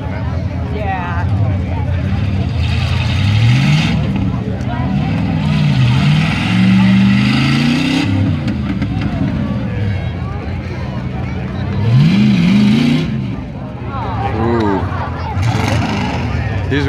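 Ford truck revving in a mud bog at a mud bog event, its engine roaring and rising and falling in repeated loud revs, under crowd chatter and nearby talk.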